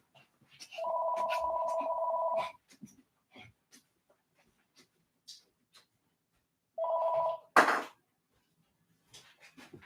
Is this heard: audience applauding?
no